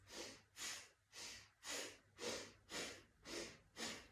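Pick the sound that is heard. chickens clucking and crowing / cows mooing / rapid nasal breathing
rapid nasal breathing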